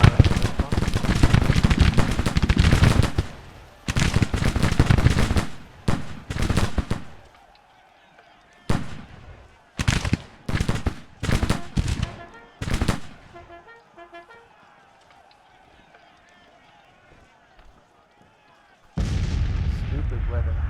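Heavy gunfire in bursts, with long loud stretches of rapid shots broken by short pauses and single cracks, and a calmer spell near the end before another loud burst.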